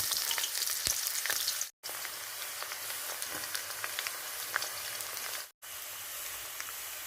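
Refined oil heats in a pan before chickpeas and rice go in, giving a soft, continuous sizzle and faint crackle, broken twice by brief silent gaps, with no talking.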